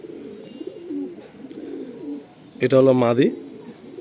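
Kalanka pigeons in a loft coo in soft low murmurs, close by, while someone talks, then his voice rises briefly and loudly near the end.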